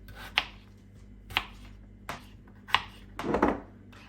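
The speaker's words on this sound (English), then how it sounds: "move your peeling to one side and then slice into chips" A knife slices peeled potatoes into chips on a cutting board, producing five distinct chopping thuds at a loose, uneven rhythm, close and clear, the last one longer and scraping.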